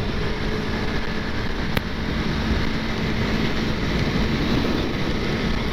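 A Yamaha MT-03 motorcycle on its original exhaust rumbles steadily inside a tunnel, a dense low drone that carries on without a break and without voices.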